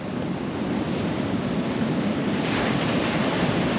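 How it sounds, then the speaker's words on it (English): Ocean surf rolling onto the beach at Canaveral National Seashore, a steady broadband wash of breaking waves with wind buffeting the microphone, continuous and close, no voices. "That's a pretty good surf, actually."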